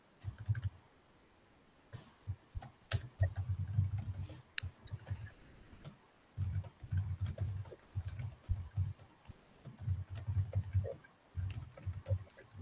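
Bursts of computer keyboard typing recur in clusters of rapid clicks throughout, close and fairly clear, with short quiet gaps between flurries and no talk over them.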